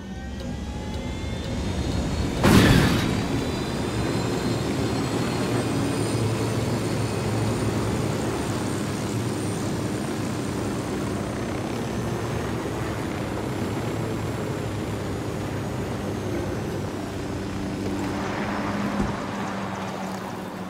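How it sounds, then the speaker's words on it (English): Surveillance drone flying in the Ghost Recon Wildlands video game, a steady propeller drone whine with harmonic tones that runs the whole time, with a sharp burst near the start and a faint swell near the end. "Drone is up."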